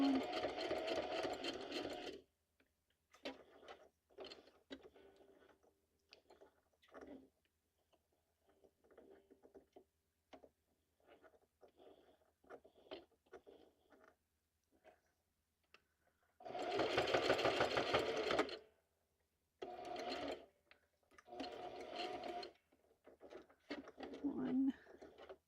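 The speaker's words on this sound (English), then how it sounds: "I'm going to stitch all the way down" A sewing machine stitches while assembling a junk journal, running in several loud whirring bursts with pauses between, one long steady run near the middle, and softer mechanical ticks in the gaps.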